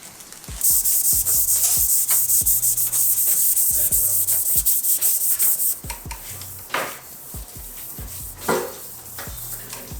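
Steady rasping of sandpaper rubbing across a car body panel, continuous and close, with a few light knocks and taps partway through.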